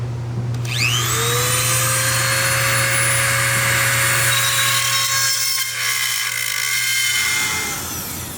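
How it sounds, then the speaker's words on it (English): A small drill bit spins up and runs steadily, enlarging the mounting tab holes and relief cuts on a Panamericana grill for a GLA45 AMG, giving a continuous close whine with a pitch sweep at the start and a brief dip near the end. "I'm going to run it through each of our relief cuts here just to clean it up and try to make these holes just a little bit bigger"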